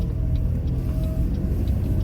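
Steady low engine rumble and road noise from a car being driven, continuous and close throughout with no talking.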